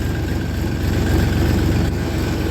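A tractor hauling a loaded sugarcane trolley in third gear drones steadily, a loud, close, low diesel engine rumble that holds an even pitch throughout.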